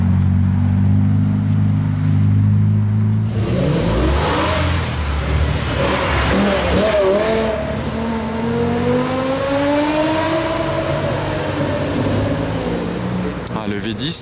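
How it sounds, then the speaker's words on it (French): A loud V10 sports car engine idles with a deep rumble, then revs up and holds high, rising and falling pitches, close by with crowd noise around it on a Paris street. "Ça fait plaisir d'entendre un V10 de bon matin."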